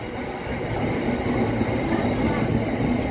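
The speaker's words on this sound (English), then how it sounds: "There we go, our first freight train of the day." Freight train, probably loaded with aggregate, passing on the railway at Leytonstone High Road in London, a loud steady rumble and clatter of wagons rolling by close at hand.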